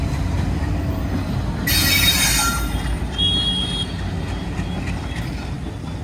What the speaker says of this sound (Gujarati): જો મિત્રો ટ્રેન આવી ગઈ છે